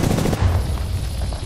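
Gunfire striking the player in a shooter game, a dense burst of close, loud overlapping shots and impacts that rattle together quickly, then ease off into lower rumbling.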